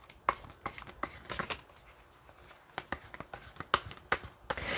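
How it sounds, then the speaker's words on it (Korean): Tarot cards are shuffled and drawn, a quick run of crisp riffling flutters and sharp slaps of cards being laid down, close and fairly quiet. "전 또 카드를 많이 뽑기 때문에 좀 더 뽑아볼게요"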